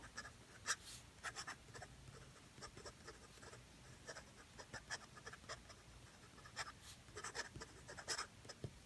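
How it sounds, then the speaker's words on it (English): A Montblanc 149 fountain pen writes quickly on paper, its nib giving close, dry scratches in short irregular bursts with brief pauses between strokes. "let's see how it does with fast writing"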